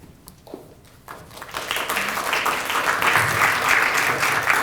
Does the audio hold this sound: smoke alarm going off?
no